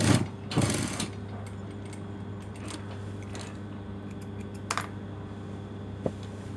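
A sewing machine stitches the lining hem of a dress, quiet rapid mechanical clicking and whirring with a few sharper taps, faint and close without talk.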